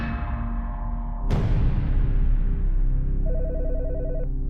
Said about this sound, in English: A phone call comes in